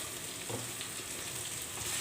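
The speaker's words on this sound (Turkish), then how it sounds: "Daha hala pilavımı kavuruyorum." Rice pilaf fries and sizzles in a pot as the grains are stirred, giving a steady close crackling hiss with a few scrapes from a ladle.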